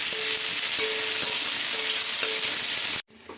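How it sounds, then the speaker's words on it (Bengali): Chopped onion fries in hot oil with a steady, loud hiss, a few faint stirring clicks mixed in, before the sizzle cuts off abruptly near the end. "পেঁয়াজটা করে ভেজে নেবো, হালকা লাল করে ভেজে নেবো।"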